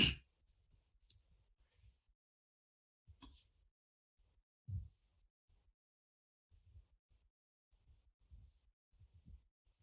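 A computer mouse gives a few sparse, sharp clicks several seconds apart, faint and close against near silence.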